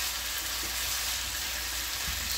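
Leftovers frying with soy sauce in a Ninja 10.5-inch non-stick fry pan, a dense continuous sizzle, close and even for the whole stretch.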